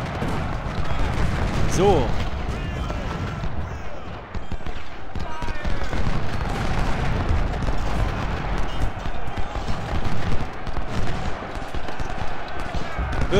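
Dense, continuous gunfire with heavy cannon blasts rolls through a busy battle in the game Ultimate General: Civil War, while voices shout commands over the din.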